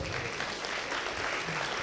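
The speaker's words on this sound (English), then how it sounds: "Give a big round of applause." Audience applause following a student's presentation at a college innovation launch event, a steady wash of clapping at moderate level filling the whole moment without speech.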